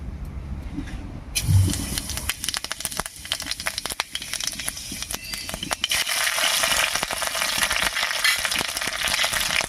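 Panch phoron and slit green chilies hit hot mustard oil with a sudden loud burst of sizzling. The frying then keeps crackling and spitting steadily, with soft stirring noises underneath.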